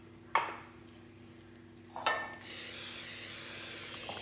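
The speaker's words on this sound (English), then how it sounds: "Now I'm going to spray my pan." A sharp hiss of cooking spray, a short burst and then a longer sustained spray, with light clatter of a pan in between.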